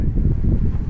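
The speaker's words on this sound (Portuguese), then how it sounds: "Toma uma ventania danada aqui, não sei se está saindo aí no vídeo para vocês." Strong gusty wind buffeting the microphone outdoors, a loud, dense low roar that blusters continuously throughout the brief moment with no speech.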